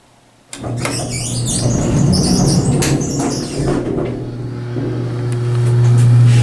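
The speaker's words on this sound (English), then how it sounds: "Very nice motor." Steady low motor hum of an Elevator Sales & Service hydraulic elevator running in an apartment building, rising in level near the end, with faint rattles and clatters over the drone and no talking.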